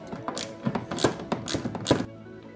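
A socket wrench clicks in quick ratcheting bursts while loosening a 10mm headlamp mounting bolt on a 2017 BMW i3, several close rhythmic clicks and then it stops.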